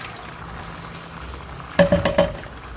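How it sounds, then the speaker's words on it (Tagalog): Diced tomatoes go into a simmering pan: a quiet low bubbling runs under everything, then three or four sharp sizzling splashes and clatters arrive close together near the end. "Okay, now we will add our diced tomatoes."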